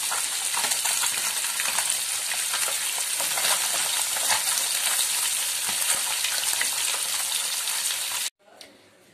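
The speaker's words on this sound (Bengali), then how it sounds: "একইভাবে সব মাছগুলো ভেজে তুলে নিয়েছি।" Pabda fish fry in hot oil with a loud, steady, crackling sizzle that runs dense and unbroken for about eight seconds before cutting off abruptly to near silence.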